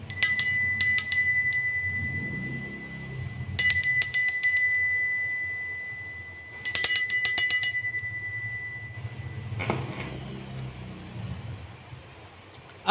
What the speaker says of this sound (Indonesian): di sini kita akan memulai dengan ditandai lonceng berbunyi